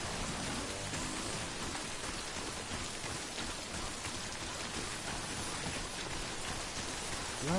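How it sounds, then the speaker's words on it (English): Steady rainfall in the video game Death Stranding, a dense even hiss of drops on surfaces that stays constant and fairly soft throughout, with no voices. "Bloody rain's wetting my stomach."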